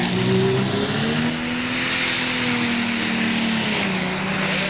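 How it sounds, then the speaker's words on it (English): A high-powered truck-and-tractor-pulling vehicle roars down a 300-foot track with a single turbocharged engine, a loud sustained drone whose pitch rises then slowly falls, dominating throughout. "this is the only way that you can test these high-powered pulling vehicles, and that's head them down the 300-foot track"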